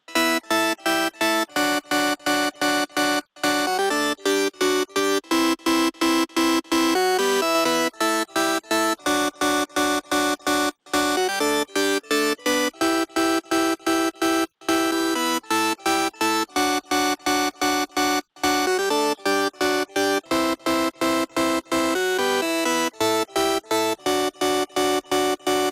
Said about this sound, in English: I added the dimension expander on there.